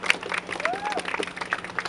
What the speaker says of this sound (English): Let me say that deserves a round clap.